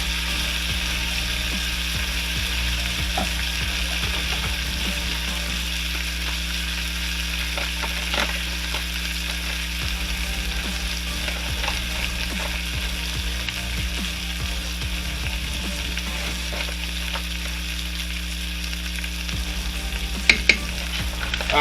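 Meat searing in a hot pan for BBQ ramen gives a steady, continuous sizzle and frying crackle, close and even throughout, with occasional clicks and clatters from the pan and utensils, and no talking.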